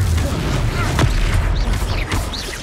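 A Confringo blast spell explodes in Hogwarts Legacy, a loud booming burst with a rumbling tail, a second thump following shortly after, amid game effects and a voice.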